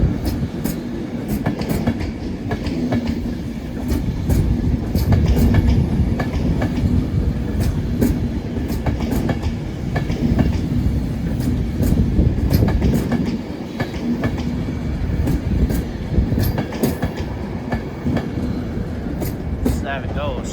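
A train rolls past at a Manchester railway station, loud and near, with a heavy rumble and rapid rhythmic clickety-clack of wheels over rail joints throughout.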